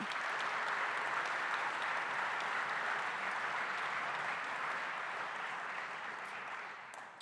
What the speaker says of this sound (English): So one round of applause for all of our gold sponsors tonight.